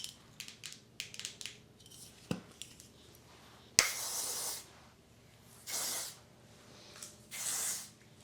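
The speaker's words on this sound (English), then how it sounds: "Oh, this is hairspray." Hairspray from an aerosol can hisses out in three close, airy bursts of about a second each, preceded by quiet handling clicks and taps of the can, with no one speaking.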